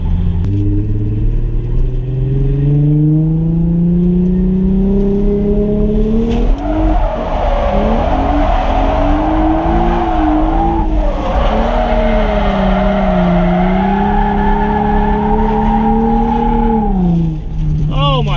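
A Nissan 350Z's wheels lock up under a hydraulic handbrake, the tires skidding and squealing loudly over a droning engine for a long stretch, with someone speaking over the noise.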